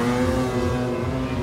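Big Audi car accelerating hard through a car meet, a loud, close, steady engine roar with rising revs filling the whole short stretch, no voices.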